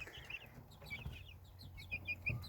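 Young hens and a rooster clucking and chirping softly at close range, with repeated short calls over a low background hum and no voices.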